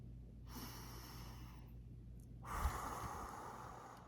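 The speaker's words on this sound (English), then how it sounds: "You can just stop and breathe when you feel stressed." Two slow, deep breaths, a long inhale followed by a longer, louder exhale, close and quiet over a low background hum.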